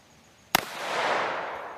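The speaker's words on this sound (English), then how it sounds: "he's going to shoot the Ruger GP100 again, shooting 357 Magnum." A single sharp, loud shot from a Ruger GP100 revolver firing .357 Magnum at an outdoor range, followed by a long, fading echo.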